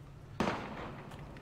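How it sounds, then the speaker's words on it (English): A single sharp gunshot crack in the war game Valkyria Chronicles, fairly faint, with a short decaying tail and a couple of softer pops after it. "Gunfire!"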